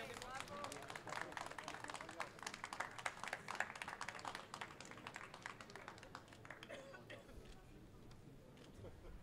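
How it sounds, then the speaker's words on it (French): Scattered clapping from an awards-ceremony audience, quiet and fairly steady, with voices talking over it throughout. "Et on peut les applaudir"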